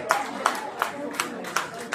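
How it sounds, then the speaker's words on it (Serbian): An audience at a rock concert claps in scattered, rhythmic bursts for the band, fairly faint, with about six sharp claps spread across the moment and a little crowd murmur beneath. "Ja veliki aplauz za momke, molim vas"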